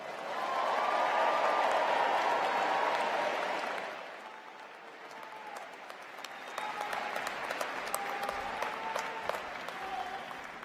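An audience at a university commencement ceremony for the class of 2021 applauds new graduates, a loud sustained crowd clapping that fades, then resumes more sparsely and distantly while someone speaks.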